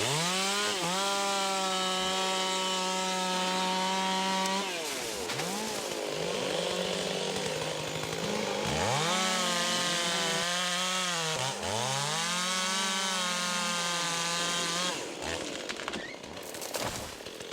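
A chainsaw drones steadily at close range in the woods, its engine pitch rising and dipping as it bites into wood, with brief revs between cuts.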